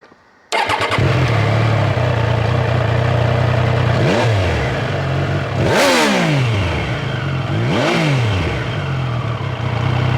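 A Triumph Trident 800 with its 798cc triple engine and 3-into-1 single-sided exhaust starts up, then idles steadily as three sharp revs rise and fall, loud and close, with no talking.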